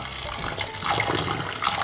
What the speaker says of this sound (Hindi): फिर इसको साफ पानी से धोएं।